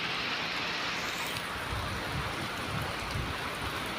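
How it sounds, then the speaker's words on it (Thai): Rain falling steadily in the afternoon, a dense, continuous hiss of drops with faint low rumbles underneath and no voices. "ฝนก็ตกนะ"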